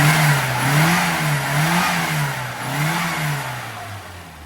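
A carbureted car engine, freshly tuned with new spark plugs and a corrected carburetor needle, revs up and down repeatedly up close, rising and falling in loud, even swells with no talking.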